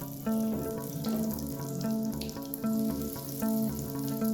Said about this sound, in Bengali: তেলটা গরম হয়ে গেছে। এবার চিকেন ফিঙ্গারগুলো দিয়ে দিচ্ছি।